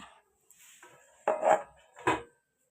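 Metal water pots in a village home are picked up and set down, giving a few clanking knocks with quiet gaps between them and no talk.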